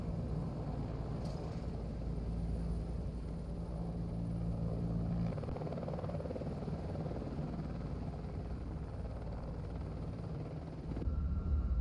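The Chicane aircraft in the game Nuclear Option flies at low speed with a steady, deep rumbling engine drone, continuous and fairly loud, with a brief swell at the very end.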